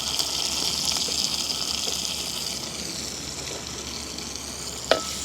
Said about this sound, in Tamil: வெங்காயம் பச்சை மிளகாய் பொரியட்டுக்கும் எங்களுக்கு